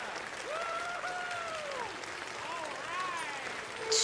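Scattered clapping from a cabaret crowd in Red Dead Redemption 2, with rising whistles and cheers over it, lively but moderately distant, swelling slightly at the end.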